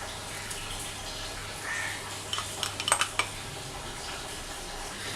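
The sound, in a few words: stirring fried ginger and green chillies into tamarind in a pan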